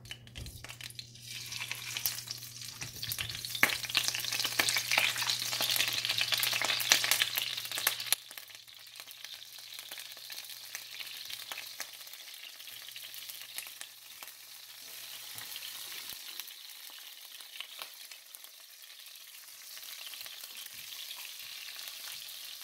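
Tomatoes frying in a pan for a fish sauce, a loud continuous sizzle with stirring and scraping for the first several seconds, then dropping to a softer, steady frying hiss for the rest, with no talking.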